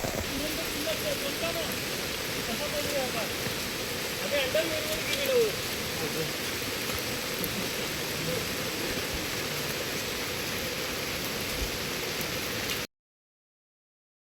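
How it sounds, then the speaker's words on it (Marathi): Heavy monsoon rain pours down on Mahuli Fort in fog, a dense, steady hiss that fills the whole scene, with faint voices briefly audible beneath it. "तर खूप पाऊस आहे"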